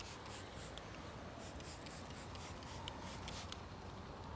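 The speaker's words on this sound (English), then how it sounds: "let's spray the bottom of this glass" Steady hiss of liquid sprayed onto glass, a continuous close-up spray with faint rubbing texture and no voices.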